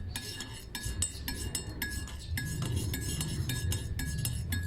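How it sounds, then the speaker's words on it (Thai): A spoon stirs a lemon drink mixed with about a teaspoon of salt in a glass, bright repeated clinks against the glass in a quick, uneven rhythm, close and clear. "จากนั้นนะเราก็คนให้เข้ากันค่ะ"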